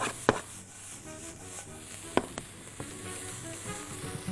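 Vegetables for noodles stir-fried in a pan, a soft steady sizzle with a few sharp clinks and taps of a utensil against the pan, close and fairly quiet, with no talking.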